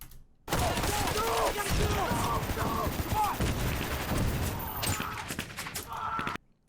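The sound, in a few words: pyrotechnic explosions on an action movie set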